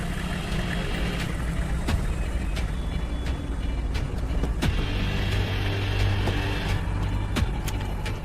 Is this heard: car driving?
yes